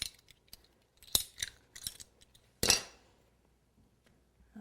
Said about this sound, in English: So we'll just use a dowel like this, something to cut it with.